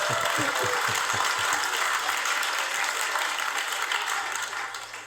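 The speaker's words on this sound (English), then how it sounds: "Round of applause. Round of applause." An audience bursts into loud sustained applause, a dense wash of clapping that fills the clip, with a few sharper claps early on and a slight fade at the end.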